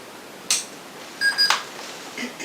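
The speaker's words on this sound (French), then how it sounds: "J'aime d'entendre le petit bip." A detection device gives short electronic beeps in a quiet room, one brief chirp followed by a couple of closely spaced tones, faint and close.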